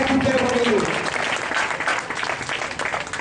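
An audience claps loudly together at a religious charity eye-care gathering, steady applause that thins slightly toward the end, with a voice briefly heard at the start.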